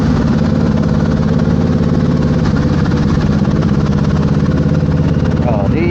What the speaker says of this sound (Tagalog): maingay yung moto natin